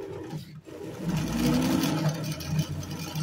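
A vintage Singer Facilita sewing machine runs steadily while sewing an invisible stitch, a continuous close mechanical whir with a short pause near the start.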